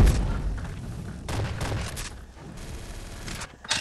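Dual P90 submachine guns are fired in the mobile shooter game CF Mobile, with dense bursts of rapid gunfire and booming impacts that come in loud waves with brief lulls between them.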